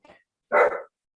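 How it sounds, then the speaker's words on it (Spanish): A single loud dog bark rings out clearly and close by, with a fainter short yap just before it and silence after. "Oye, tengo perro, lo voy a hacer callar."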